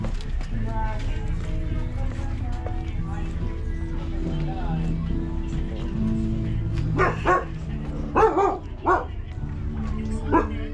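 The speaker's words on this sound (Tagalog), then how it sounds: "Galit yung aso." An angry dog barks sharply a few times near the end, over a steady low engine hum and background talk, in Isla Puting Bato, Tondo, Manila, Philippines.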